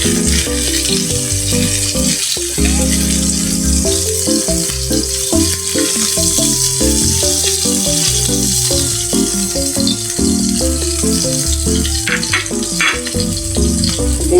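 Chopped onion frying in a pan for Filipino ginisang sardinas, a steady close sizzle with crackling running the whole time, heard under continuous background music.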